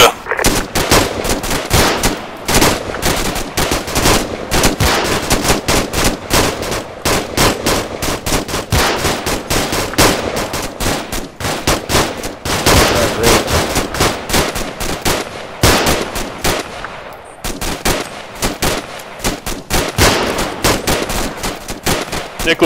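Sustained automatic machine gun fire from an Arma 2 combat simulation, loud dense bursts rattling almost continuously with brief pauses, close and overwhelming throughout.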